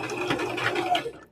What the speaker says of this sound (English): and then I'm just going to finish sewing